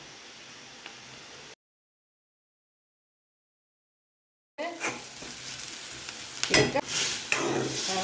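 Onions fry in hot oil for Jaffna-style spicy sambar, giving a steady sizzle with crackles. It starts softly, cuts out for a few seconds, then comes back louder with sharper popping and stirring, close up and without talk.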